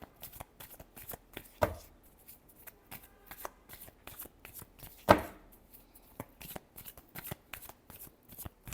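Tarot cards are shuffled by hand in a quick, steady train of soft riffling taps, broken by two sharper slaps as the deck is squared, close and quiet.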